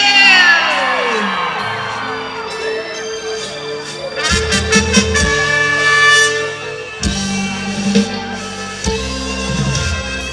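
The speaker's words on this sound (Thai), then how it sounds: "เสียงปรบมือดังๆ ต้อนรับ" A crowd cheers and whoops loudly, children's shouts rising above the noise, with bursts of clapping midway through and a tonal drone underneath.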